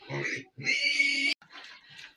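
A young pig being raised as a growing boar grunts and squeals close up in short bursts, with a long harmonic squeal in the middle and softer snuffling grunts after.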